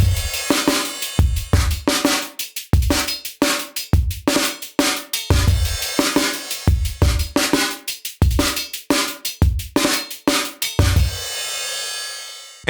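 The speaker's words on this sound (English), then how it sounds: "we've now got a drum kit from the ground up made using only the power of Chromaphone 3" A synthesized drum kit made in Chromaphone 3 and finished with saturation and bus compression plays a steady beat of punchy kicks, snappy hits and metallic tones, loud and alone, ending on a sustained ringing tail.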